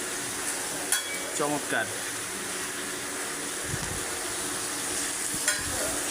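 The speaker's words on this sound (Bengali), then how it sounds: "আর এটা হচ্ছে এই যে বেগুন, বেগুন ভাজতেছে" Eggplant (brinjal) frying in a pan gives a steady, fairly loud sizzle, with occasional clinks of stirring and a voice speaking briefly over it.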